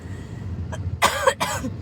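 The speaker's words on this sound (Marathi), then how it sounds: "मला अजून पण खोकला आहे, तर मी खोकून दाखवते." A short burst of coughing from a woman with a cold, two or three harsh coughs close to the microphone after a quiet moment, with a faint catch of breath before.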